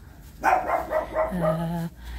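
A dog gives a run of short barks and yips while being fed, close and clear, ending in a longer whining tone, with no talking over it.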